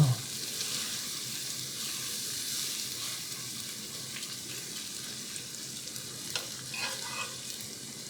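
A spatula stirring brown sugar in a Caraway ceramic nonstick pan, with a continuous soft sizzle and scattered light scrapes and clicks toward the end, and faint speech in the background.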